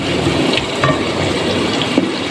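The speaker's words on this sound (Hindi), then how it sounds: "तो यहाँ मैं इसमें करीब आधा ग्लास पानी डाल के इसको हाफ डन होने के लिए रख दूँगी।" About half a glass of water pours onto potatoes in a pot for masoor dal pulao, a continuous, fairly loud splashing gush throughout.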